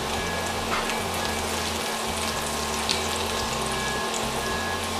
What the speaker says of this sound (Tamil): கொத்தின பூண்டை போட்டுக்கிறேன்